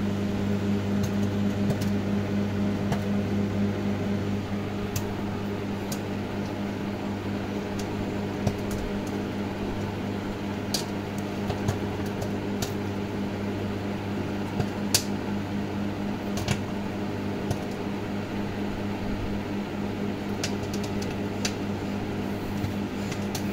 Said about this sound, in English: Starting to pop. This microwave is on high power of 900 watts.